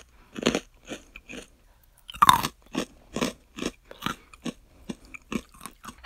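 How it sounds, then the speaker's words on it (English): Hot buffalo wing flavoured pretzel pieces crunched close up, a series of about a dozen sharp, rhythmic bites and chews spaced roughly half a second apart, loud and alone with no talk. "this is the kind of crunch that you can expect with these pretzels"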